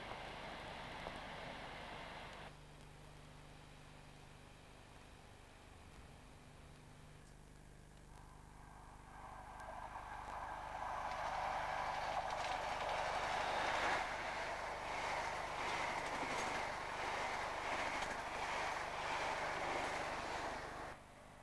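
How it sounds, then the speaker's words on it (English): A ballast train from Penmaenmawr passes on the North Wales coast line, a low rumble that swells into a loud, close roar of rolling wagons clattering along the rails, with no speech. "Ballast train from Penmamar."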